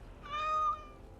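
A single cat meow from the Dragon Age Origins video game, one clear drawn-out call about half a second long, close and alone against faint background hiss.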